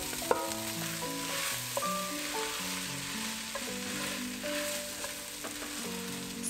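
Couscous tossed into a pan with garlic gives off an even, continuous sizzle and hiss, with soft background music playing underneath.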